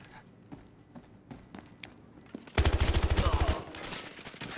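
A gun in the multiplayer shooter Battlefield Hardline fires a loud rapid burst of about a dozen shots in the second half, following quieter footsteps and distant in-game noise.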